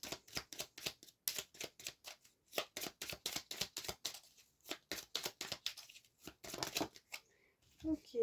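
Playing cards riffled and shuffled for a tarot-style card reading, a run of quick papery flutters and snaps in steady bursts, close and moderately loud, with a soft voice briefly at the end.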